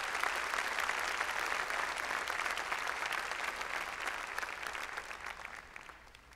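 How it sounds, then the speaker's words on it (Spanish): A church congregation applauds in a dense wash of steady clapping that holds for several seconds and then begins to thin out and fade. "Está bien, denle un aplauso."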